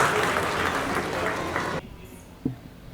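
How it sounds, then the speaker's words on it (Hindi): A crowd at a Hindi kavi sammelan poetry gathering applauds loudly to welcome a young poet onto the stage; the clapping cuts off abruptly partway through, leaving a quieter room with a brief knock and faint sounds. "मैं चाहता हूं जोरदार तालियों से आप उनका स्वागत करें।"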